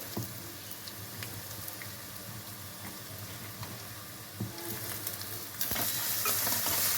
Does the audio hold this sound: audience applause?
no